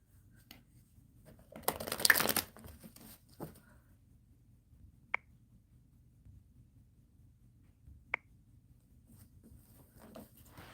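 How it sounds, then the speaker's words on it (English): Tarot cards being shuffled by hand during a live reading, a dense crisp riffle burst near the start followed by a few soft taps and two sharp clicks, fairly quiet over a low room hum. "Shuffling for Maharguna."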